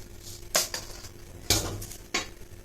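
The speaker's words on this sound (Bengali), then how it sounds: "কালিজিরাটা ভাজা হয়ে যায় ভালো করে।" Kalojira (nigella seeds) being fried in a pan: three short, sharp scraping strokes of a utensil against the metal over a faint sizzle, close by.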